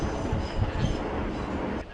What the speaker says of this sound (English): And there's another train there, also heading in the direction of Waterloo.